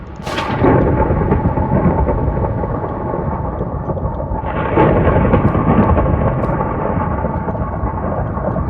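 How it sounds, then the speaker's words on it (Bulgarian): Thunderstorm in a video game, a loud continuous rumble of thunder with rain hiss, a sharp crack at the start and a second swell of rumbling midway, steady throughout with no talk. "Това ти бурята, бе."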